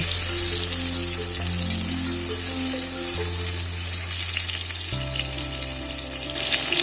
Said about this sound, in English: তেলটা গরম হয়ে গেলে কিছুটা ক্যাপসিকাম আমরা এর মধ্যে দিয়ে দেব।